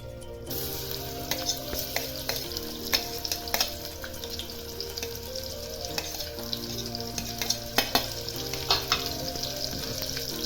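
Finely chopped onion sautés in hot oil inside a pressure cooker for chicken biryani, giving a steady close sizzle and frying crackle with scattered clinks and scrapes of a stirring spoon.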